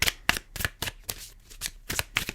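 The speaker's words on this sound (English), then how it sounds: "those of you that do like to watch shuffling" A deck of tarot cards is shuffled close up in quick, rhythmic bursts, about eight or nine crisp riffles and slaps in a row with no talking.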